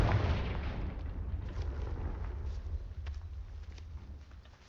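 A Confringo blasting spell goes off in the Hogwarts Legacy video game as a loud, deep explosive rumble that rolls on and slowly fades over several seconds, with no talking.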